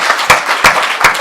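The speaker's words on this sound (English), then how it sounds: "is that all the applause I get" Brief burst of audience applause from a chamber of commerce crowd at a Lynn University talk in Boca, a few scattered claps swelling in uneven waves, moderately close and on its own.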